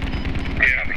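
Gunfire in the tactical shooter Squad, a short burst of rapid reports crackling over a dense, noisy battlefield background.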